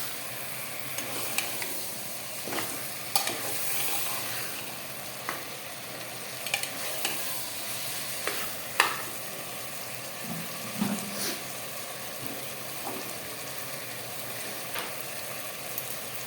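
Mutton and potatoes cook together in a pan in an Assamese kitchen, a steady low sizzle with occasional stirring scrapes and soft clunks, close and unhurried.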